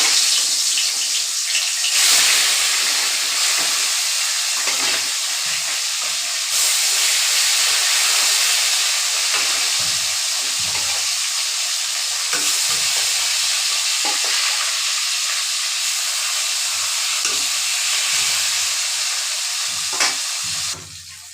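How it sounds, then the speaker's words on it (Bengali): Tangra fish frying in hot oil, an intense continuous sizzle and hiss close up, with occasional crackles and spatters and a brief dip near the end, no voices. "মাছখিনি সকলখিনি মাছ মই ভাজি ল'ম"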